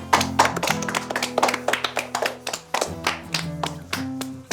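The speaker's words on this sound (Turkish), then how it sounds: "Hadi alkışlayalım." Hands clap in a quick, uneven run of sharp taps, layered over steady musical tones at a children's nature-team farewell.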